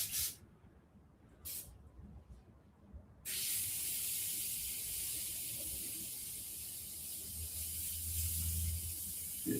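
A steady airbrush hiss sprays paint continuously for several seconds, after a couple of brief short puffs at the start.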